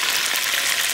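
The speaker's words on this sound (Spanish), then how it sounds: "aquí tengo saltando tomate, cebolla y chile verde" Chicken fries with tomato, onion and green chile in a pan, giving a steady, bright sizzling hiss with no pauses.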